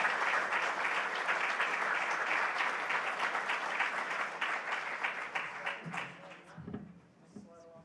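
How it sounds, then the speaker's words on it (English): Audience at a community sports awards ceremony applauds long-service awardees, a sustained dense round of clapping that gradually thins and fades near the end as a voice begins speaking over it. "please join me in a round of applause for our third group of Distinguished Long Service"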